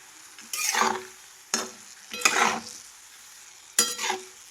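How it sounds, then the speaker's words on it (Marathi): Stone flower spice (dhondphool) roasted in hot oil with the gas turned off, heard as four separate bursts of spatula scraping and brief sizzling with quiet gaps between them. "ह्या बंद गॅसवरती हे धोंडफूल आम्ही हे असं भाजून घेतलेलं आहे"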